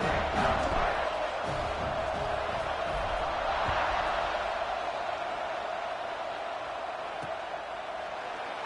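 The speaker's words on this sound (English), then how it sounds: "this crowd now ready to get behind them" Steady roar of a stadium crowd in the college football video game College Football 26, Oregon facing Oregon State, building just before a kickoff; a dense, continuous wash of cheering voices that eases slightly toward the end.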